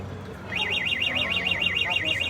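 A Somero Cheetah V2 three-wheeled e-bike's anti-theft alarm wails with a steady, rapidly warbling siren that starts half a second in and keeps cycling loudly over low background rumble, with a brief voice near the end.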